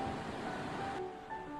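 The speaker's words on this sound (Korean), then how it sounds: "V자 협곡에 자리 잡은 이 폭포는 높이 60m입니다." A 60 m waterfall in a V-shaped gorge on Yakushima gives a steady, even broadband rush of falling water, heard continuously at moderate level with no voices.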